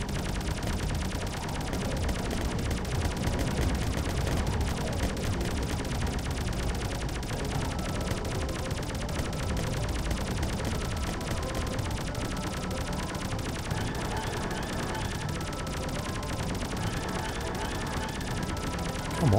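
Sustained rapid gunfire from a video game, dense bursts of automatic shots and crackling impacts running continuously and loudly throughout, with no speech.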